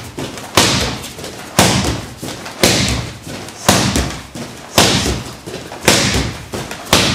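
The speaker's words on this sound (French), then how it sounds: "8 coups de pied en 7 secondes" Rapid martial-arts kicks striking a pad or target, a run of heavy, evenly spaced thuds about once a second, loud and close, with no voices.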